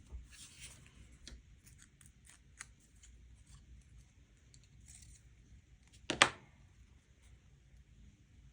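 An X-Acto knife slicing paper for a collage: faint, sparse scratchy cuts and paper rustles in a quiet room, with one sharper, louder scrape near the end.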